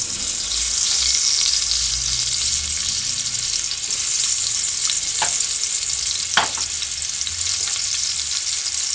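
Onion, ginger and garlic sizzle steadily in a pot for a beef pot roast, a loud, continuous frying hiss with a few sharp stirring clicks from a utensil.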